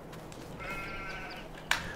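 Sheep bleat in the farm video game Farming Simulator 22, a single faint, drawn-out call over a low background hum, followed by a brief sharp click.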